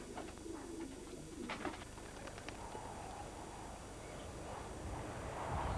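Racing pigeons coo softly in a loft, a low rolling call repeated a few times against quiet background hiss, with faint clip-clop sounds.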